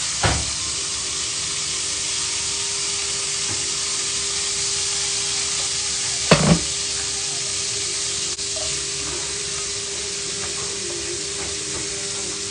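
Butter sizzles steadily in a pan for fried rice, a broad constant hiss close by with a brief louder crackle about halfway through and a faint background hum.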